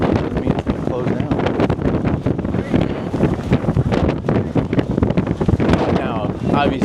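Strong wind buffets the microphone on the deck of the Utopia of the Seas cruise ship at sea, a loud, continuous roaring rush that dominates throughout with faint voices partly buried beneath it.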